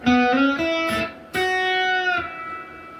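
A guitar plays a few notes, one string pre-bent and released so it slides back down in pitch, clear and close.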